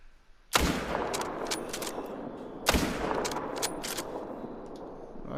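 Two loud, sharp .308 bolt-action rifle shots fired at a whitetail buck, roughly two seconds apart, each followed by a long rolling echo that decays slowly across an open coastal landscape.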